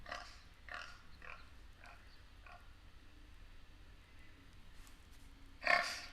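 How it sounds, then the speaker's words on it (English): Several short, rough pig grunts come in a loose series, then one louder, harsher grunt near the end, with quiet background in between. "Listen to these pigs."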